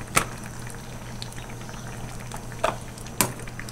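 A coconut-milk stew of chicken feet and taro simmers in a pot with a soft, continuous bubbling, close and quiet, broken by a few sharper pops and clinks.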